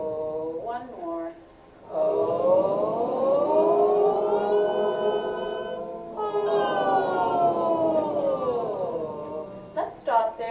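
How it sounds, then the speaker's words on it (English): A voice therapy exercise for Parkinson's: a sustained vocal glide sweeps smoothly up to a high note and back, performed twice in long, siren-like swoops, with brief breaths and short vocal sounds between them. "vocal glides, something you can do every day"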